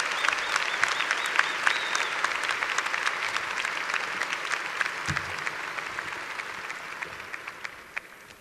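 A large audience at the 2015 Northeastern University commencement bursts into sustained applause to welcome the speaker, a dense crackle of many hands clapping that slowly tapers off toward the end.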